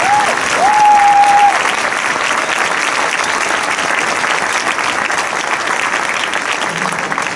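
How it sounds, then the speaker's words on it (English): A school audience gives a loud, sustained round of applause for a sixth grade middle school band at a winter concert; dense, steady clapping throughout, with a brief electronic tone at the start. "So give them another round of applause."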